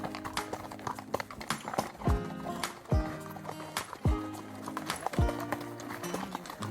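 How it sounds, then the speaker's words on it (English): Hooves clip-clop in a loose, uneven rhythm as horses walk on a trail ride in Newfoundland toward the Tablelands, sharp close knocks standing out over soft outdoor background noise. "we resettled the horses and started riding towards Tablelands"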